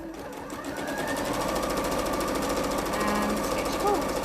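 A sewing machine stitches pin tucks in cotton, running in a fast, even mechanical rattle close to the listener for the whole stretch.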